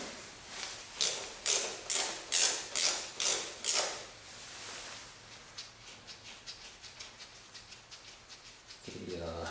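Rapid ratchet clicks in a series of sharp, evenly spaced bursts as a socket wrench loosens bolts on the firewall of a Rolls-Royce Phantom III, close and loud at first, then lighter clicking trailing off.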